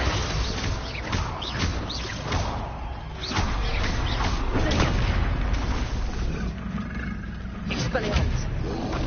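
A troll in the game Hogwarts Legacy roars and booms through heavy thumping combat, deep rumbling bellows layered with impacts and spell effects, loud and dense, with a voice speaking over it.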